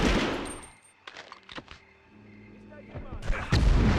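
Gunfire in the Medal of Honor video game, with loud bursts of shots at the start, scattered single cracks in the middle and heavy firing again at the end. Faint voices or game sounds come between the volleys.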